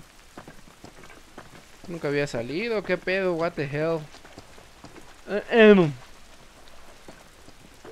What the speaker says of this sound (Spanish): Es un pinche escándalo la lluvia